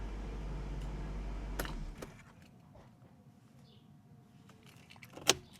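Car keys jangle as they are pulled from the ignition of a Jaguar XK8 after the engine is switched off, a brief close metallic rattle over a low idle hum that cuts out, followed by a sharper jingle near the end.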